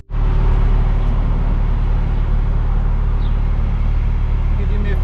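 A BMW M4 with a loud modified exhaust sits idling after a police stop on a California road, its deep steady rumble starting abruptly and holding constant and close.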